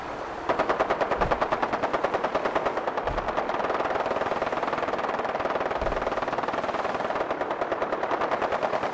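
Sustained rapid automatic gunfire from the video game Fallout 4, a loud, even machine-gun rattle running almost the whole time with a few heavier thuds mixed in.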